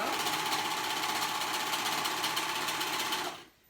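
A sewing machine stitches a waistband onto a pair of kids' color-blocked joggers, running in one fast, steady, close burst for about three seconds before stopping abruptly.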